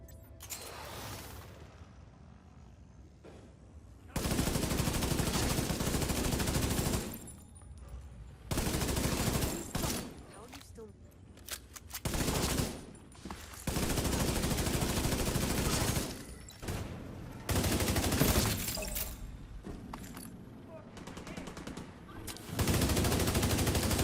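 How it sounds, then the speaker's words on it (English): Assault rifle fire in the video game The Division 2, long loud sustained bursts broken by short pauses, close and heavy, with quieter stretches between volleys and no talking. "here's some gameplay of me just, running around with the guns and shooting them"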